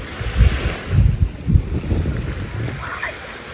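Waves washing onto a beach in Zakynthos on an overcast, misty morning, with a gentle breeze; soft irregular surges of surf and low wind rumble, steady and moderately near, no voices.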